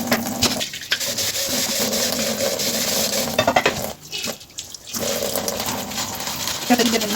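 Dishes are scrubbed with a sponge at a kitchen sink, with close clinking of pots and cutlery, scraping and running water under continuous talking.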